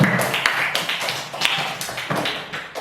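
A classroom of students clapping hands together in a lesson on the story of Prophet Noah, a lively burst of overlapping claps with a few louder accents, close and fairly busy.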